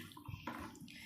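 Water is poured into a pot of dhaba-style chicken curry cooking on low gas, a brief, quiet splashing and gurgling pour.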